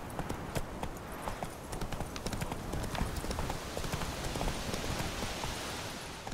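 The horse Roach trots in The Witcher 3, its hooves clip-clopping in a quick, steady rhythm. The hoofbeats are fairly soft and continuous against a faint rain-like hiss.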